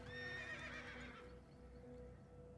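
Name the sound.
horse neighing in a video game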